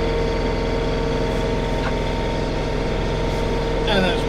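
A John Deere 3039R tractor clears light, fluffy snow at night, its engine holding a steady, even drone near the listener, and a voice talks briefly near the end.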